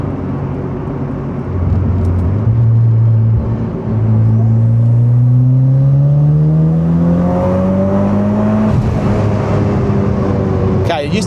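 A tuned Mitsubishi Evo X on its first drive after a new tune accelerates hard from inside the cabin, the engine note climbing steadily through a long pull with a brief dip where it shifts, loud and continuous.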